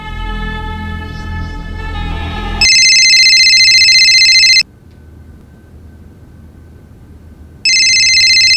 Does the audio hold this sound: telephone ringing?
yes